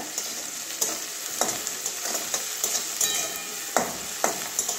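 Black cumin (nigella seeds) hits hot oil in a pan for a Bengali pointed gourd chechki, producing a steady bright sizzle with repeated stirring scrapes and taps, close and clear.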